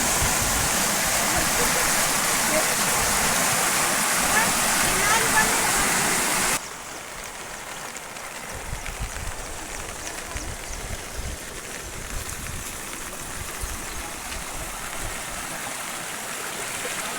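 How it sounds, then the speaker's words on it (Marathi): Loud rushing river flood water roaring steadily beside a tarred road near Jawala village, Loha, Nanded district, then the sound drops in level to a softer churning flow with faint background noise. "ते मायनर कसं सोडतं तसं पाणी पळायले"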